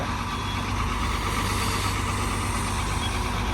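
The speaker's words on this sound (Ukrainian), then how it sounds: "Такий ковш велетенський поїхав." A large loader with a big bucket moves off at a building site, its diesel engine running steadily and loudly throughout, a dense continuous rumble close by with no talk.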